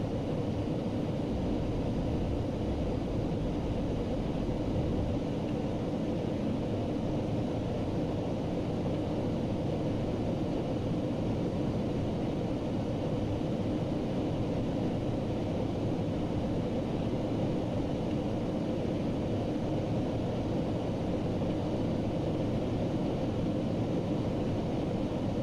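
Steady, unbroken roar of an airliner climbing out after departure from Minneapolis in the Prepar3D flight simulator, a broad engine and wind rumble holding constant throughout with no talking.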